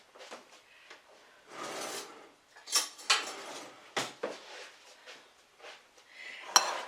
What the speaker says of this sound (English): Now I'm going to get a spoon for the blueberries here